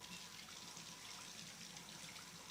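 Hot, steamy water pours steadily from a tap into a tub or sink, a continuous close hiss and splash with no pauses.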